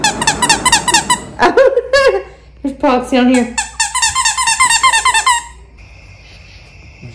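A squeaky dinosaur dog toy squeaks in rapid, high-pitched bursts, loud and close, amid people talking nearby.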